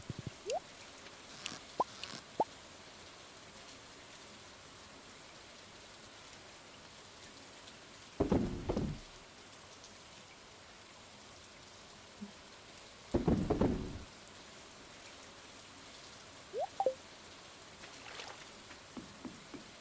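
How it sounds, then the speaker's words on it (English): Stormy rain falls steadily in Stardew Valley, a soft, constant patter with no talk over it, broken by a few louder rumbling bursts that suggest distant thunder. "is it a stormy day in game?"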